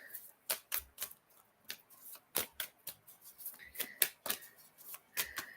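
Playing cards are shuffled and flicked in a rapid series of crisp, close riffling bursts with short pauses between them, with no talking.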